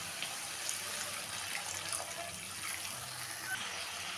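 Water poured into a cooking pan of pabda fish curry with fried eggplant, chopped tomato and green chillies: a soft, continuous watery hiss, fairly quiet and even throughout, with no talking.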